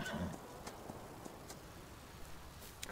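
Horse hooves clip-clopping in Farming Simulator 19, a faint, evenly spaced series of soft knocks as the horse is ridden, heard alone against a low background hum.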